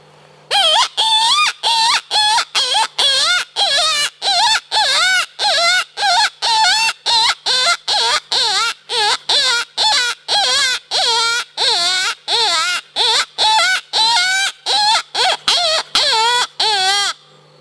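Open reed coyote hunting call blown with a thick, raspy tone in a long series of evenly spaced loud, wavering squalls, each cut off by a short gap, with no talk.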